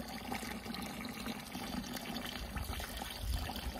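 Water pouring steadily into a container of lye for a homemade sulfur plant fungicide, a continuous close splashing, filling rush that runs the full length without speech.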